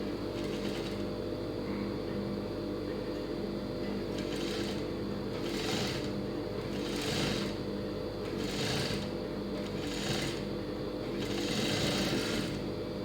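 Sewing machine stitching a cross-cut blouse sleeve, running in a steady continuous whir with repeated louder bursts of stitching at regular intervals, close and even throughout.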